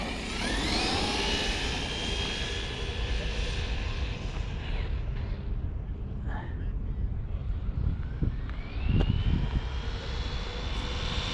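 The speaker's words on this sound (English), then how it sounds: "that's top speed right there, full throttle" A Losi LMT RC monster truck runs at full throttle, its electric motor whining high and loud, the pitch sweeping down and back up, with wind buffeting and faint background talk.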